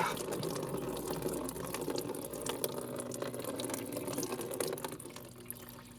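Coolant gushes and splashes out of a disconnected hose at a BMW i3 coolant pump, a steady close liquid pour that eases slightly toward the end, with no speech.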